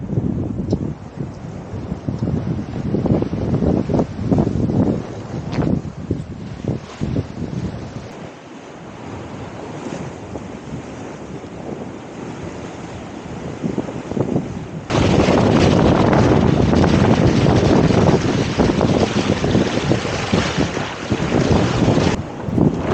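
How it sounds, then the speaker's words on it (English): A sailing yacht runs dead downwind in 15 to 20 knot trade winds, with constant loud wind buffeting the microphone over rushing water and waves, growing stronger in the second half, with no voices. "So we're sailing dead downwind in 15 to 20 knots."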